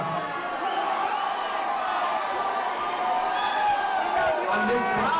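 A large audience at an anniversary show roars and cheers in a continuous loud wash of whoops and shouts, close and sustained, with a voice speaking over it.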